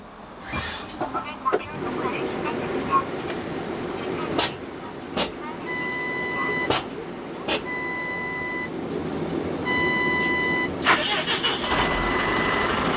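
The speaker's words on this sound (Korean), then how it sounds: "시동도 한번 걸어봐 드릴게요" A 2022 Tata Daewoo Deoxen 4-ton cargo truck with air brakes, heard from the cab: sharp clicks and repeated warning beeps, then the engine cranks and catches into a steady rumble, with someone talking.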